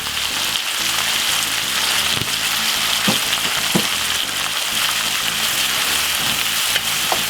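Salt fish with mixed herbs and smoked paprika frying in a pan for a fry-up, a loud steady sizzle with a few stirring clacks, close and continuous.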